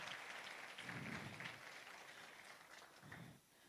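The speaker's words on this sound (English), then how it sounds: "Another round of applause." An audience at a university innovation festival award ceremony claps for the winners, a faint, distant wash of applause that swells and fades across a few seconds.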